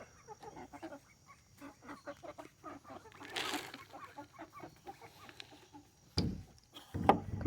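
Farm chickens cluck in a steady stream of short, close calls during feeding after a rainy morning, with a louder burst of calls near the end.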